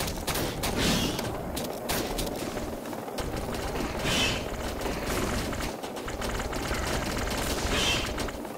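Dense, sustained weapon fire in the video game Defiance, aimed at a hellbug during an arkfall fight: continuous rapid shots layered with mechanical clatter, loud and unbroken throughout.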